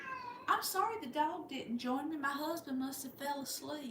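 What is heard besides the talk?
cat meowing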